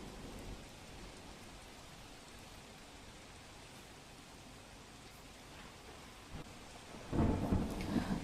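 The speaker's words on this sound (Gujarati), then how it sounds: "ભારે વરસાદ વરસી રહ્યો છે, જેને કારણે પાણી જ પાણી જોવા મળી રહ્યું છે" Heavy rain pours down in Junagadh, Gujarat, a steady faint wash of falling water with a low rumble of thunder rising near the end.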